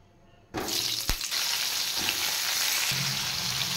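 Pointed gourd drops into hot oil and bursts into a loud, steady sizzle, with a brief clatter of utensils, no talk.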